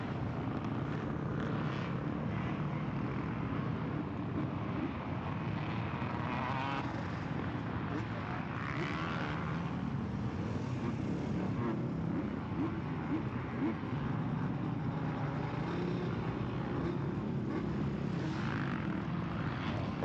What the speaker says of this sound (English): Bikes are pretty loud.